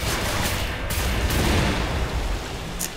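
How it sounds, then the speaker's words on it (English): A destroyed missile battery explodes in the shooter game Wolfenstein: The New Order, a dense rumbling blast with crackling debris that fills the whole moment loudly, followed by a short sharp burst near the end. "Big explosion, USA style."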